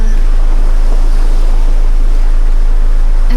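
Ocean waves surge in the underwater game Cold Abyss, a loud, constant wash of surf and rumbling water with no break.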